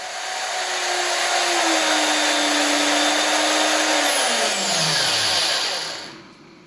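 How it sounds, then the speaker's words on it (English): A drill spins an airgun piston body case to spread grease, giving a loud, steady whirring whine that holds for about four seconds before its pitch sinks as the drill winds down and stops. "you could hold in the drill the front of the body case here and simply give it a spin."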